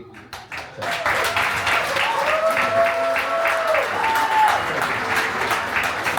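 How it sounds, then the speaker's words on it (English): Wedding guests break into a loud, sustained round of applause, dense clapping from a crowd filling the room, with a voice faintly audible beneath it. "One more time, round of applause."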